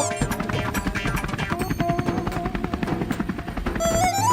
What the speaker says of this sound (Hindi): अंकल, आप आइलैंड पर ही लेकर चलो हेलीकॉप्टर को।